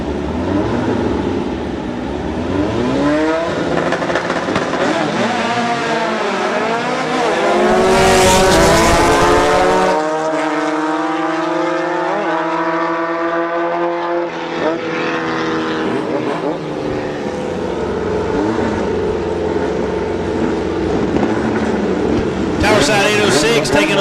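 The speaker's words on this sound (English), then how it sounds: "Bill Plymouth side leaving first this round of pro category" Pro-category drag race cars launch from the line at a Farmington strip in 2007, engines roaring loud and rising in pitch as they pull away, with a track announcer talking over the noise throughout.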